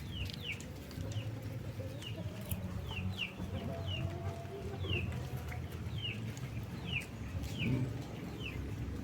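Chickens cluck and chirp repeatedly at a steady pace, with short high calls over a low background murmur of a farmyard.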